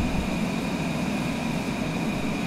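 Steady, loud broadband roar of a Cessna Longitude business jet climbing out after takeoff, heard from inside the cabin as a constant engine and airflow drone with a faint high whine, no talking.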